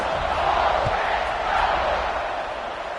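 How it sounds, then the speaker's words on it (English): Broad roar of a stadium crowd in a college football video game after an extra point, a steady dense buzz holding loud throughout with a slight swell midway. "this crowd is buzzing after that last score"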